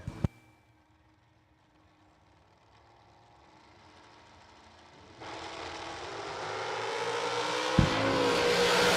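Drag race cars squaring off at a strip, engines idling low at first, then a loud, building roar of racing cars from midway on, steady and close with a sharp burst near the end.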